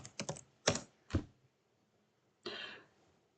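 Fingers type a name on a computer keyboard in a quiet room: a quick cluster of clattering key taps, a pause, then a single longer burst of keystrokes. The taps are close and crisp.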